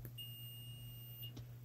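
A continuous electronic beep from an XL830L multimeter's continuity tester, a steady high tone that sounds for just over a second and then stops, close and clear over a low hum.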